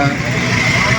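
Road traffic in the rain near Baclaran church in heavy congestion, a loud, close, continuous wash of engine rumble and hiss with a voice murmuring underneath.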